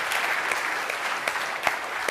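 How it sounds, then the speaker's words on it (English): An audience claps steadily throughout for a volunteer at a body language demonstration show, a dense even wash of hands with a few sharper individual claps standing out. "give her a big round of applause"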